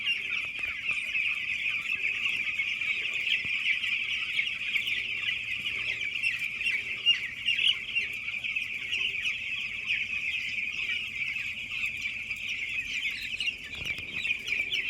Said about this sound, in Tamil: இது ப்ராய்லர் கோழி.